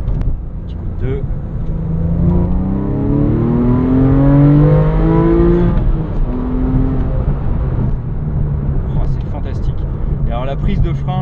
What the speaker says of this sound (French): je vais vous faire entendre un petit peu le chant de ce flat, que je trouve, ma foi, assez extraordinaire